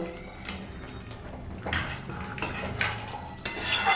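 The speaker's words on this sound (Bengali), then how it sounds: "দেখুন ভালো করে নাড়া দেবো ডিম দিয়ে বেশি ফুটাবো না পাঁচ মিনিটের জন্য ঢেকে দেবো" Egg chilli gets stirred in a metal pot, a spoon scraping and knocking against the sides in uneven strokes over a faint simmer, with one sharper clank near the end.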